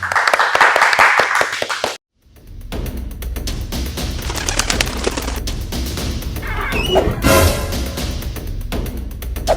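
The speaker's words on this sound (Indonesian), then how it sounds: "Tepuk tangan dulu dong." Hand clapping from a small group of people: a dense, steady run of sharp claps after a brief pause, loud and close, with a voice talking over the start.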